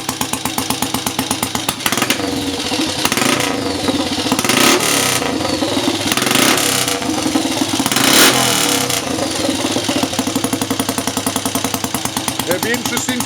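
A Triumph Scrambles Cub motorcycle engine running after a cold kickstart, with a steady close single-cylinder beat that rises into louder bursts of revving and settles back to idle, while a voice talks over it.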